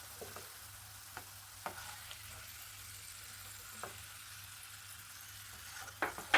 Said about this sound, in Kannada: ತುಪ್ಪದ ಗೋಡಂಬಿನ ಹುರ್ಕೊಂಡಿದ್ದೀನಿ ಚೆನ್ನಾಗಿ.